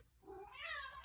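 A house cat gives a single drawn-out meow that rises and falls, faint and slightly distant against a quiet room, with no talking over it.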